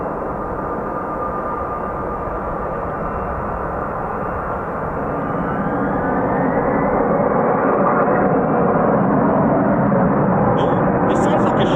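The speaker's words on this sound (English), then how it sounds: "Oh, this sounds like a short takeoff." An F-35B stealth fighter jet makes a short takeoff at a naval air squadron base, its engine roaring loud and steady, then swelling as it accelerates, with a voice briefly audible near the end.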